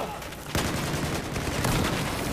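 Gunfire in the Battlefield 4 beta video game: after a quiet half second, a dense, continuous burst of rapid shots and blasts rolls on steadily to the end, loud and close.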